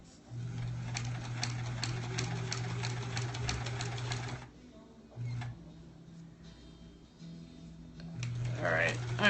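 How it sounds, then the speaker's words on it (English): A sewing machine stitches along a line in steady, rapid bursts, with a running hum that stops and restarts several times, up close under quiet background noise. "sewing along our line, trying to be straight"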